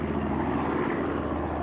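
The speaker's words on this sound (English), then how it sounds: "Nice turn on the B-25 up there." A North American B-25 Mitchell, a twin-engine medium bomber, passes overhead at an air show, its propeller engines giving a steady, loud, continuous drone with no talk.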